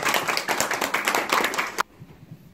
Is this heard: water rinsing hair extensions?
no